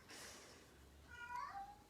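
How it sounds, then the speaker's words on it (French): A house cat sings out behind someone at home, giving one faint drawn-out meow with a rising then falling pitch over quiet room noise. "j'ai mon chat qui chante derrière."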